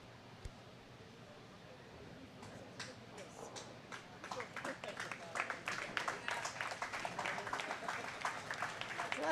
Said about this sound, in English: A lot of slow clapping going on when people come out of these games